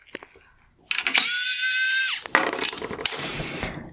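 A single T20 Torx screw is driven out of the inner reflector of a 2019-2020 Mercedes-Benz C400 Multi-Beam LED headlight, a loud, close whirring burst of about a second followed by scattered clicks and handling noise.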